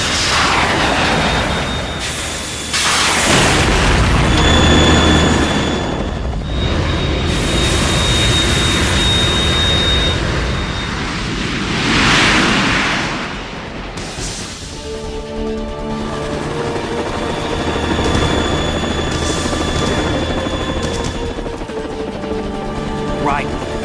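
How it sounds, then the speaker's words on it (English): A Harrier jet fighter in the video game Metal Gear Solid 2 roars continuously with a loud, steady engine drone and rushing whine, mixed with game voices talking over it throughout. "The Kasaka can't stand up to the Harrier. You have to shoot the Harrier down."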